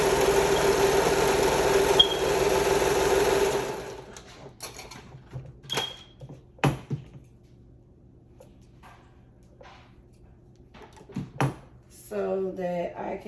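A sewing machine stitches shorts to take them in, a steady mechanical whir for about four seconds before stopping, followed by someone talking with light handling clicks and thumps.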